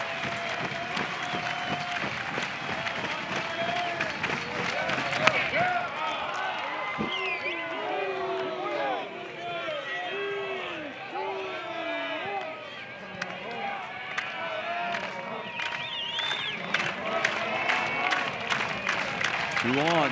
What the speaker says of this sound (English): Here comes the Goss Stadium crowd.